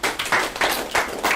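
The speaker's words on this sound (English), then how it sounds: "A round of applause for him." A few people clapping in a bootcamp session room, uneven bursts of claps coming in waves rather than a full audience roar.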